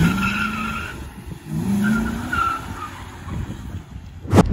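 A Chrysler 300C with a 5.7-litre 360 bhp V8 Hemi accelerates, its engine note climbing in pitch alongside a tyre-squeal-like whine, ending with a sharp loud burst near the close.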